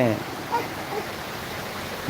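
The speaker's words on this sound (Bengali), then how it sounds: "বৃষ্টি হচ্ছে" Rain falls steadily in an even, broadband hiss throughout, with a brief voice at the very start.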